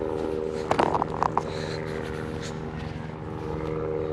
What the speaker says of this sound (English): Helicopter up there.